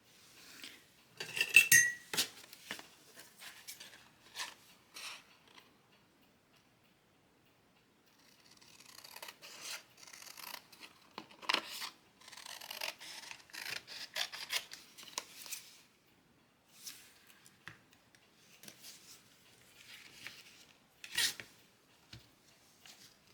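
Scissors snipping and rasping through paper up close, in scattered bursts of crisp cutting with quiet pauses between, no talking.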